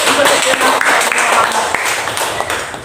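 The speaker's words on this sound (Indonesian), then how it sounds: "Tepuk tangan dulu." A group of teachers at an elementary school in Tebing Tinggi claps together during a school observation session, giving a dense, steady burst of applause close by that fills the room, with voices mixed in.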